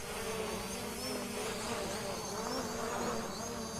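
A Cinemaster 2 drone lifts off and hovers outdoors on a windy day, its propellers giving a steady, continuous insect-like buzz that stays level in loudness throughout, with no talking.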